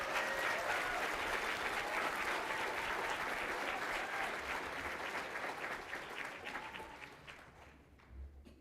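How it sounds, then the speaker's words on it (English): A large audience applauds honorees at an educational support professionals awards event, with a dense, even roar of clapping that holds steady and then gradually thins out and fades near the end. "Let's give all of our honorees another round of applause"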